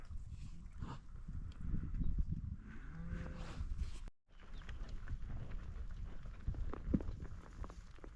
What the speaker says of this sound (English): These cattle are lined out and traveling a long line.